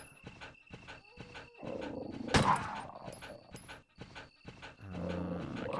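Dogs barking and growling in Resident Evil 1 Arranged, a horror video game, with repeated sharp barks in a steady rhythm, one loud snarl at the midpoint, and low rumbling game sound toward the end.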